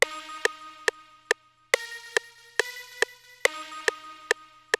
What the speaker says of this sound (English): I added that little jungle pad that I rendered out as a one shot